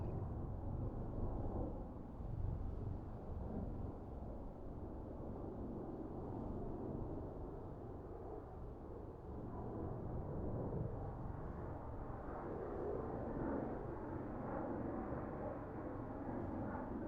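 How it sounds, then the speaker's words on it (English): A military aircraft taxiing to its takeoff position in the naval game Sea Power, a steady low jet-engine roar and rumble that holds evenly throughout, quiet and continuous. "here we have the aircraft taxiing up to the takeoff position"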